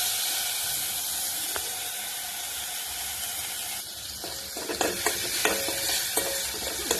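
Chilli and soaked tamarind mixture sautés in a pan, a steady soft sizzle with scraping stirs and clinks of a spoon in the second half, close and fairly quiet.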